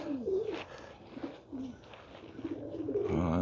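Birmingham Roller pigeons in their loft give soft, repeated throaty coos, several overlapping calls rising and falling close by over a faint room background.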